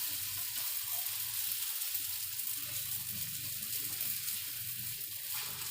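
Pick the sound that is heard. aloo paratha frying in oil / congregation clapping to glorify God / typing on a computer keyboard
aloo paratha frying in oil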